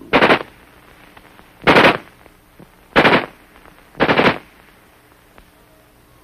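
Four short bursts of automatic fire from an M16 rifle, each about half a second long, spaced roughly a second apart, loud and sharp with quiet gaps between.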